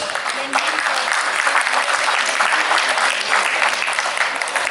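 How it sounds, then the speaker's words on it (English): Warm, loud applause from a luncheon audience welcoming a speaker, a thick continuous clatter of clapping that holds steady, with some voices mixed in. "Warm applause."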